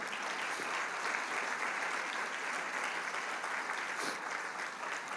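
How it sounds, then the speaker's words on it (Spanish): A congregation at a church sermon applauding in a steady, dense burst of clapping that fills the room and does not let up. "Dale un fuerte aplauso al Señor Jesús"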